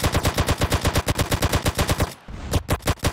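Police open fire in GTA San Andreas Definitive Edition on PC: loud, rapid automatic bursts rattle in a steady rhythm, break off briefly, then a few more close shots ring out.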